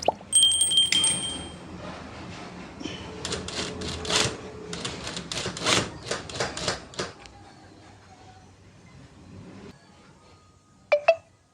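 A sewing machine stitches a double lining in a rapid, rattling burst of needle strokes that speeds and slows over several seconds, then fades to quiet, with a couple of sharp clicks at the end.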